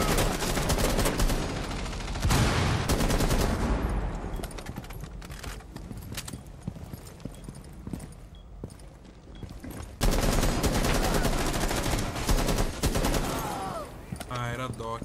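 Rapid automatic gunfire from the video game Rainbow Six Siege, loud, dense bursts of shots that fade partway, then resume strongly, with faint voices underneath.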